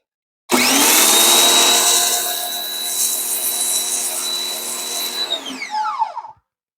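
A pressure washer's adjustable nozzle on its rinse setting lets out a loud, close, steady rushing spray that starts abruptly, holds for several seconds, then falls away with a whining rundown to silence.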